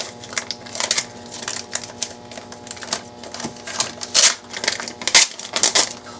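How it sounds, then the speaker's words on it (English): Tape pulled off a resin drink coaster mold in a craft setting, heard as a run of sharp, crackly peeling bursts and sticky snaps close up, uneven in rhythm, with no talking. "Pull off that tape."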